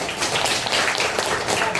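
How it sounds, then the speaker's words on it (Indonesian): A classroom of children claps together, a dense, continuous patter of applause lasting a couple of seconds. "tepuk tangan semuanya"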